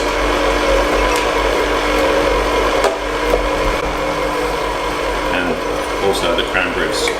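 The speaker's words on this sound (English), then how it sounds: "putting the mixer again on a slow speed, we slowly add the pistachios first" A stand mixer runs at slow speed, kneading biscotti dough while pistachios are added, giving a steady close motor whir with light scraping and knocking from the bowl, under talk throughout.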